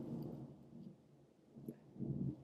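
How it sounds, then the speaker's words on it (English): Thunder rolls in low, soft rumbles from a distance, with two faint swells of rumble, heard alone and without talk. "I'm sorry, it's really thundering here, so I'm sorry for that noise."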